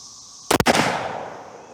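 A single .444 Marlin rifle shot firing Remington Core-Lokt ammunition at a target range, a sharp loud crack with a quick double-peaked blast, then a ringing decay that fades over about a second, no voices.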